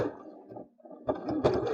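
A home sewing machine briefly runs a seam on a fabric pot holder, giving a quick mechanical stitching patter close by. It pauses for a moment and then resumes more loudly, with no speech.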